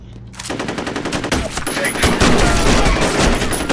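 Rapid, loud bursts of shotgun fire from the first-person shooter game F.E.A.R., blasts stacking up in a dense, continuous barrage of combat noise after a brief quiet start.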